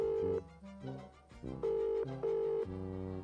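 A phone call rings out on a telephone line, steady repeated electronic tones in bursts with short gaps, clear and close, no voices over it.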